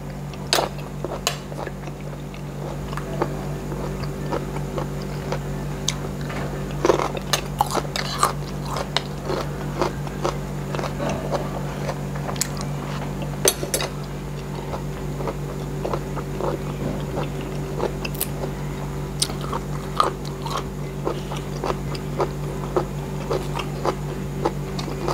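Close, steady chewing and biting on Thai rice noodles with chicken curry, stato and cha-om leaves, soft wet crunches and smacks repeating throughout over a constant low hum, with no talking.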